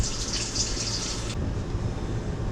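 Tap water running steadily into a sink during handwashing, a close, even rush of water that cuts to quieter background partway through.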